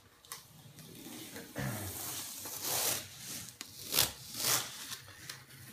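Backing paper peeled off gloss black air-release vinyl racing stripe film on a Can-Am Spyder F3 GT, several close crackling rips and rustles in bursts, the loudest near the end.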